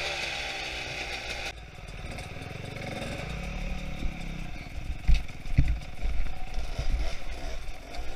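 An enduro motorcycle engine runs nearby near Antalya, its note dropping and then rumbling unevenly with clattering bursts as it climbs on its own, with no voices.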